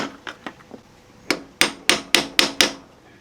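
Sharp metallic hammer blows drive a chisel against the bolt locks on the loose rear axle of a John Deere 318 tractor: faint light taps first, then six loud, evenly spaced strikes close up, with no talk.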